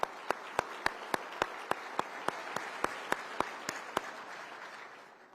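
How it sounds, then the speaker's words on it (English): Audience applause for Central Florida sheriffs at a Patriot Day remembrance breakfast, sounding as a sparse crowd wash punctuated by sharp, evenly spaced loud claps that taper slightly toward the end. "Let's give them all a huge round of applause and say thank you to each of these Central Florida leaders."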